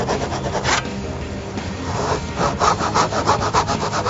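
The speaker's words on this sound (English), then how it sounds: "hold the board flat against the bench so that you can use your back saw. Saw down to your marks." A hand back saw cuts down to marked lines on a wooden tenon, with the board held flat against a workbench. Steady rasping push-pull strokes come close and continuous, growing more rhythmic toward the end.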